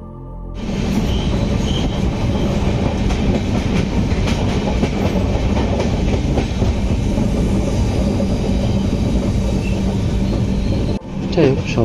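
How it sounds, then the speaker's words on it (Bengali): The Dhauli Express passenger train runs on the return journey from Puri, a loud, dense rumble with rhythmic clickety-clack of wheels over rail joints that holds steady, then briefly drops out near the end. "ফেরার ট্রেন ছিল ধৌলি এক্সপ্রেস।"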